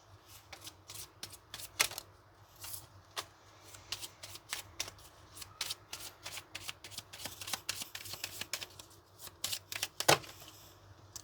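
A deck of tarot cards is shuffled by hand in a quiet room, producing repeated crisp riffling bursts and soft slaps of card against card at close range, with no talking.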